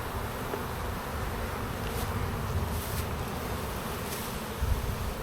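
Honeybees buzzing steadily in a spring hive being reversed, a dense, even hum of many bees close by with no talking, with brief louder swells as some pass near.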